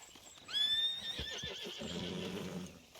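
A horse in the video game Red Dead Redemption 2 lets out a loud, close whinny that trails off into snorts and hoof clatter, with no one talking.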